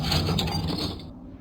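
A mechanic's tool undoes the bolts on an aircraft oil radiator in the game Plane Mechanic Simulator, giving a short burst of close ratcheting and mechanical clicking that cuts off abruptly.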